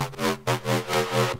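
A gritty synth bass layer pushed through heavy saturator drive plays short, buzzing sustained notes with rich harmonics, in pulsing phrases for bass music.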